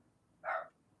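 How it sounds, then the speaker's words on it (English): A dog lets out one short, sharp bark, fairly soft, against a quiet room. "Who are you barking at?"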